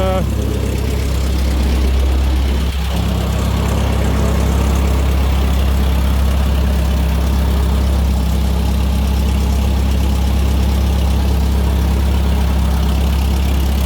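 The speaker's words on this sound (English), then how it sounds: "It's a nice little tractor" A small tractor engine idles steadily and loud up close, a deep constant rumble with a low throb that barely changes; a brief voice or knock stands out near the start.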